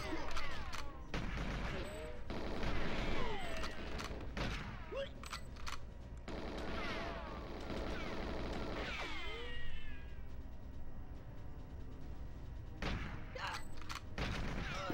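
Gunfire rattles in GoldenEye 007 as bursts of sharp shots and clattering impacts come in irregular clusters over several seconds, mixed with high squealing game effects and steady background hum.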